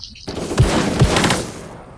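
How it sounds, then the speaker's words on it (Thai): Revolver fire in the online shooter Krunker.io, a few sharp reports spaced out at a slow pace over a dense bed of game noise, fairly close and loud. "วันนี้ผมจะมาเล่นปืนพก ปืนพกก็แรงอยู่นะ แต่ว่า มันจะยิงช้าหน่อย"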